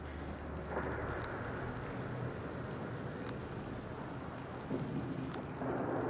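Heavy steady rain pours throughout a video game thunderstorm, with low rumbling and a few sharp crackles, loud and close with no voices.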